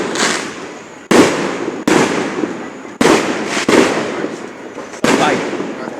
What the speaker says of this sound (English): another fireworks coming